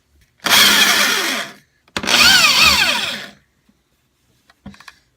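Power drill driving a screw into the underside of a table, two close, loud whirring bursts of about a second each with rising pitch, followed by a faint clack.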